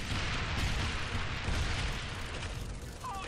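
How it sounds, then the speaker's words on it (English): Loud, continuous roar of explosions in the video game Earth Defense Force Insect Armageddon, a dense rumbling wash of blasts with no clear gaps, heard alone without talk. "the explosion produces so much smoke that you can't see anything"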